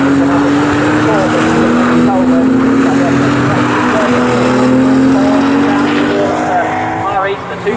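Porsche Cayman race cars lap Snetterton circuit, and their engines drone loudly as they pass at steady high revs with a rising whine. The sound is continuous and fades slightly near the end.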